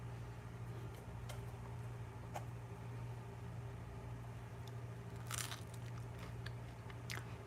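Crunchy bites and chewing of toast spread with vegan butter, a few sharp crackling bursts close up over a steady low background hum, with no talking.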